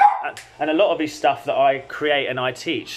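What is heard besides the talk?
dog barking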